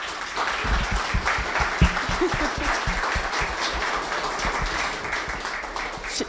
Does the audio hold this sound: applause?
yes